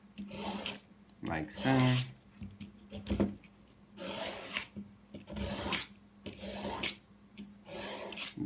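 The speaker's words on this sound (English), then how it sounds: "We're going to begin peeling our carrot" A peeler is drawn blade side down along a carrot in repeated rasping strokes, each a short scraping burst with brief pauses between, close up, while a person talks quietly over part of it.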